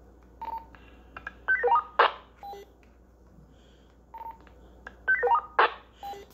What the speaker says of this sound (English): I found a feature where you can actually make the radio sound like a MODAT tone.